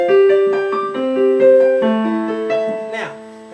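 Piano playing the intro to a song, a steady run of clear, close chords and single notes that ring into each other, with a brighter accent near the end.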